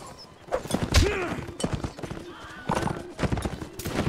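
In Mount & Blade: Napoleonic Wars a horse gives a loud whinny amid heavy clip-clopping hooves and dull thumps, the whinny rising and falling near the start, with hoofbeats continuing irregularly after it.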